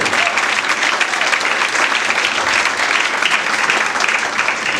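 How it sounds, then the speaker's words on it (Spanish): Loud, sustained applause from a large crowd, a dense wash of clapping that stays steady throughout without a break. "si le va a aplaudir, apláudale fuerte"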